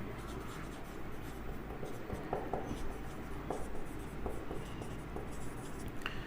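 A pen or chalk moves across a board while a chemical formula for magnesium chloride is written out, producing continuous scratchy strokes with small taps at the start of each stroke, steady and close.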